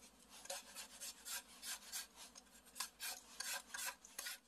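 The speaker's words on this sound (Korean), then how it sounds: "그래서 겉에 표면을 다 껍질을 제거해 줄게요." Repeated rough rasping scrapes in an uneven rhythm, close by and fairly quiet, as a peeler strips the skin from a lotus root, with no talking.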